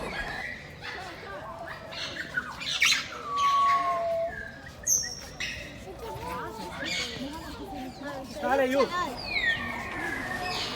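A parrot and other birds call and chirp in Al-Zawraa Park in Baghdad, sharp squawks and whistles rising over a busy outdoor bed while someone talks.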